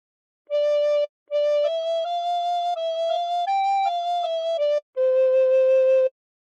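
A recorder plays the Squid Game theme, a simple breathy melody of sustained notes stepping up and down, with a short break before the last long note.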